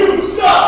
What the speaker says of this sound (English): you hear the crowd here. They are not happy about this